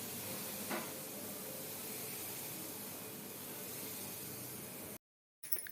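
Smoking-hot ghee poured into flour for shankarpali dough gives a steady, even sizzling hiss that holds throughout, then cuts off abruptly near the end.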